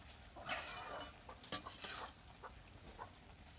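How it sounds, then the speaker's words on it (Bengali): Bottle gourd curry being stirred in a cooking pan, giving faint, soft scraping strokes with a few light clinks over a low sizzle. "ভালো করে নাড়িয়ে নিচ্ছি"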